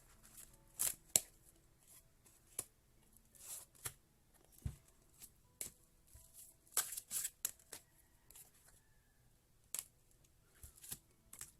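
Intermittent riffling and snapping of cards being shuffled, short bursts separated by pauses, close and fairly quiet with no talking.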